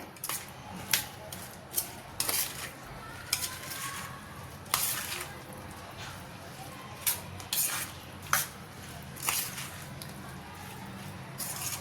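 Homemade instant mango pickle being mixed in a pan with oil: irregular metallic clinks and scrapes of a spoon against the pan, with soft, wet stirring sounds between them.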